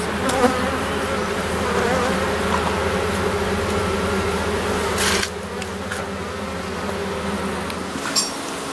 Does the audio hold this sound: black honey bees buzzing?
yes